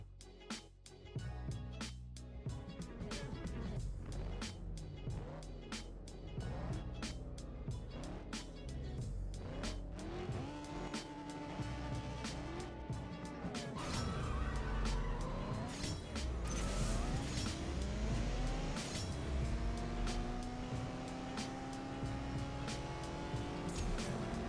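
Racing-game cars roar through gear shifts in CSR Racing 2, engine pitch sweeping up and dropping repeatedly over a busy music bed, with tire squeal and a rising nitrous-boosted surge late in the run; no talking.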